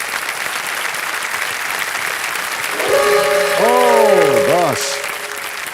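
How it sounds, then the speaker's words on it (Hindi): A studio audience on the Kaun Banega Crorepati game show set bursts into loud, sustained applause. A voice speaks over it and a bright tonal cue sounds partway through. "एक बार फिर जोरदार तालियां बज जाएं इनके लिए।"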